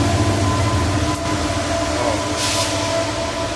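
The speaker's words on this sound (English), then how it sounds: "sorry about that, it's train." A train rumbles past nearby, a steady loud roar of wheels and rail noise with a faint squeal, heard near an outdoor cold smoker setup.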